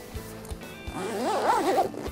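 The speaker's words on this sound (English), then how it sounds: "zip it up" A zipper is pulled closed along a tablecloth shipping bag in one steady, fairly close rasping run that rises in pitch and lasts about a second.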